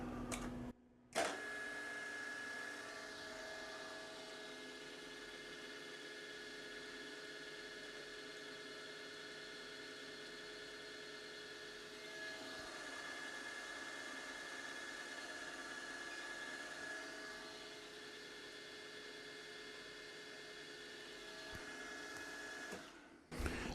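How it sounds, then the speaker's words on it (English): A machine spindle turning at 1000 RPM with a 22 mm OD bearing mounted for edgefinding gives a steady, even mechanical whir with a faint whine, continuous and quiet, starting and stopping abruptly at the ends, with no talking. "we're just approaching until the bearing stops spinning"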